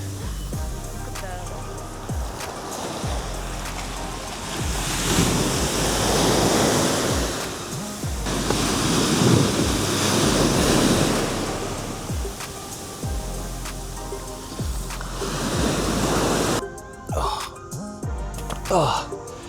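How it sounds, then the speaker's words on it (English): Waves wash steadily onto a peaceful beach in Vietnam, a loud continuous surf roar that swells and recedes with breaking crests, and wind buffets the microphone. "this is a very peaceful beach"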